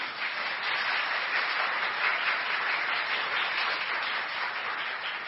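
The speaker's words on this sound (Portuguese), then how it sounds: "Você pode aplaudir o nome de Jesus?" Sustained applause from a church congregation, a steady wash of many hands clapping for several seconds without pause.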